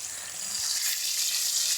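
Katla fish pieces fry crisply in hot oil with a steady, dense sizzle that stays loud and even throughout, with no voices.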